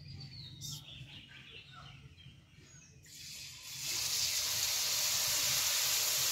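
Besan batter for motichur laddu hitting hot oil, with a steady loud hiss and bubbling sizzle that rises suddenly after a few seconds of quiet kitchen background noise.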